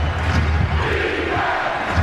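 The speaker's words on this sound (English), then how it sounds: "Crowd chanting defense" A packed Boston basketball arena crowd at a 2003 playoff game between the Nets and Celtics chants defense, a loud, continuous roar of massed voices filling the space without pause.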